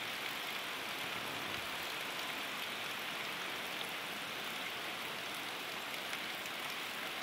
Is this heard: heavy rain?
yes